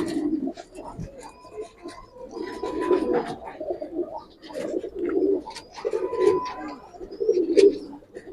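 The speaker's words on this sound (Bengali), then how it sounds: "চোখের দিক থেকে অসাধারণ কবুতর" Several silver Giribaz pigeons coo in soft, throaty, repeated bursts at close range, a steady rolling rhythm with faint chirps and background noise between calls.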